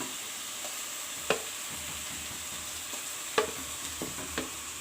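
Ground peas and spices fry in a pan for a spicy matar sabzi, a low steady sizzle with a few sharp clacks of a spoon scraping and stirring, close by and free of talk.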